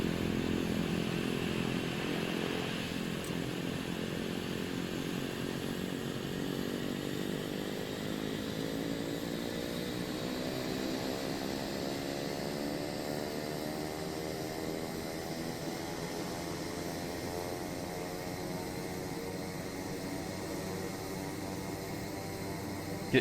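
Twin piston engines of a Beechcraft Baron in a flight simulator game held steady at about 2000 RPM during a run-up check, a continuous droning buzz with a rising harmonic sweep, loud and alone throughout.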